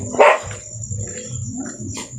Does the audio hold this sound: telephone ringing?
no